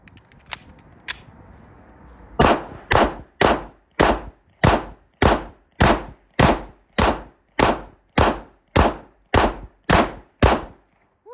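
A Smith & Wesson M&P 2.0 pistol fires at a target on a range: two early shots, then about fourteen loud, evenly spaced rounds in a steady rhythm with brief echo tails.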